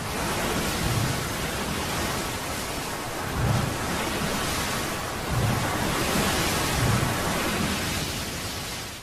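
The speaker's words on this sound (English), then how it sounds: "And that's a rogue wave." A rogue wave crashes in the open ocean, heard as a loud, continuous roar of surging water with several heavier rumbling swells rolling through, and no voices.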